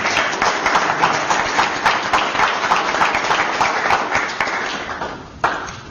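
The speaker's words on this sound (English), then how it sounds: "can we have a round of applause for the candidates?" Audience at a Chamber of Commerce all-candidates breakfast in a hotel applauds the candidates, a dense, steady round of clapping that holds for several seconds before thinning and fading out near the end.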